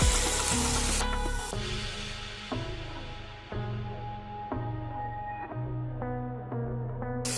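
Quail bhuna frying in oil once the water has cooked off, a steady close sizzle broken by several sharp stirring clatters of a spatula against the pan.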